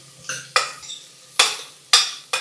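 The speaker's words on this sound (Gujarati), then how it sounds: "મીઠો લીમડો અહીંયા આપણે લઈ લેશું વેજીટેબલ અને બધું એકદમ સરસથી ચલાવી લેશું" Spoon stirring vegetables, curry leaves and spices in hot oil in a pot for sambar, making a few sharp metallic scrapes and clinks spaced through the clip, close and fairly loud, with no voices.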